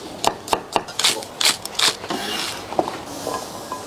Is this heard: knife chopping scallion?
yes